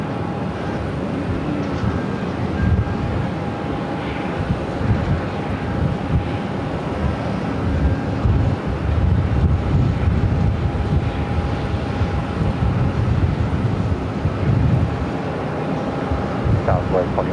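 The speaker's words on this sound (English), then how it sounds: "Air Canada A330-300." An Air Canada Airbus A330-300 on short final approach to runway 8 at Phoenix Sky Harbor produces a continuous broad engine roar with a faint steady whine, loud and unbroken throughout.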